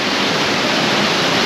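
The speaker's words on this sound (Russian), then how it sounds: "Смотрите, как сверху срывается вода. Просто тонны воды летят вниз." A powerful waterfall pours out of the Red Cave in Crimea, a dense, steady roar of heavy falling water, loud and close with no other sound over it.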